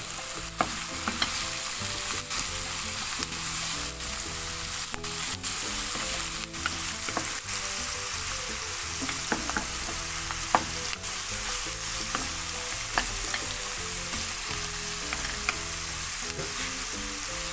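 Vegetables for a vegan paella fry in half a cup of olive oil, giving a dense, constant sizzle with scattered clicks and scrapes as a spoon stirs the pan, close and steady with no talking.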